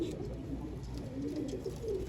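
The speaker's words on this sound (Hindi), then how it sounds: "वाकई में वो बहुत ओरिजिनल कबूतर है" Pigeons coo softly in a low, repeating murmur, several birds close by, with faint background hiss and no talking.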